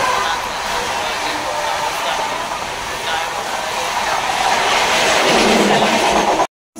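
A train pulls into Virar railway station with a steady, loud rumble and faint rail clatter that builds slightly over about six seconds before cutting off.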